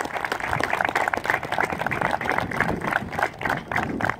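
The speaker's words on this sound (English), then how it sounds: "if you can please give a round of applause for those individuals who helped make this day a reality" A crowd at a college baseball home opener ceremony claps steadily, a moderate, continuous patter of applause from a fair-sized audience.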